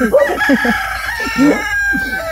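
A rooster crows loudly and close by, a long rising-and-falling call with clucking chickens around it.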